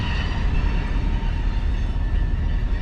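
Freight train with oil tank cars pulling out near the Chain of Rocks lock, a steady loud low rumble and rolling clatter that stays constant throughout, close by, with no voices.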